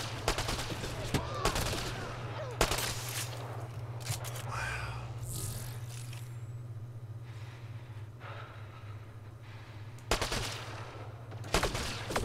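Gunfire in the video game Mass Effect comes as sharp separate shots and short bursts spread across the span over a steady low hum, with several loud reports standing out near the start and the end.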